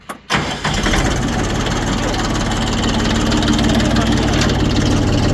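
A Kentavr tractor engine cranks and catches, then settles into a loud, steady diesel running close by, with no voices over it.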